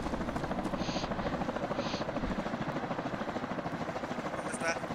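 Helicopter in a video game mission, its steady rotor drone continuous and loud throughout, with voices calling out over it.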